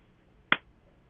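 A single sharp hand clap, given as an audio check during a live link with astronaut Nick Hague. It is one brief, crisp hit standing alone in near silence.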